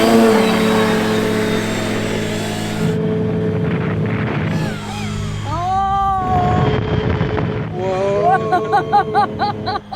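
Lawnmower engines on a homemade flying lawnmower rev up and down, loud and near, with rising and falling engine tones, a buzzy high whine late on, and wind buffeting the microphone.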